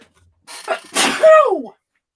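A single sharp sneeze, close and loud, with a short inhale leading into an abrupt burst.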